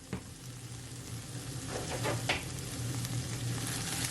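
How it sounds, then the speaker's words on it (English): Corned beef fries and sizzles in a pan while a utensil stirs it, a soft steady crackle with a few scraping strokes partway through, quiet and close with no talking. "Gonna give it a stir."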